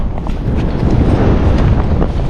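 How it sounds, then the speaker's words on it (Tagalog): Strong wind blows steadily at the sea, a dense, continuous rushing roar buffeting the microphone with no pauses. "Medyo mahangin ngayon"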